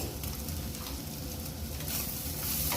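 Egg bhurji fries in a pan with red chili powder and coriander powder, a steady close sizzle under constant stirring and scraping, with no talk.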